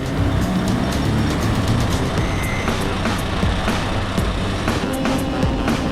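A race car at the start of a race in a high-level Japanese series gives a loud, continuous engine roar heard up close from on board, steady and dense throughout with no voices.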